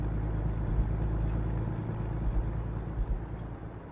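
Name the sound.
truck driving on highway in American Truck Simulator video game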